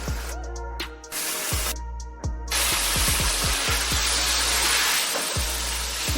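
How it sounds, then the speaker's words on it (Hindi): Chicken pieces dropped into hot oil with fried ginger and garlic, setting off a loud, steady sizzle and hiss with repeated clinks and scrapes of a spoon against the pan, close and without talk. "अब इसके अंदर चिकन शामिल कर"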